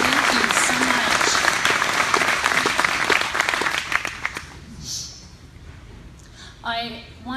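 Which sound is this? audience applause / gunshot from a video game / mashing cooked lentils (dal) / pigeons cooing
audience applause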